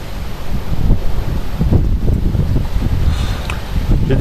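Storm Kirk's wind buffets the microphone in Clermont-Ferrand as a loud, steady roar of gusts with rustling, heavy rumble and no clear voices.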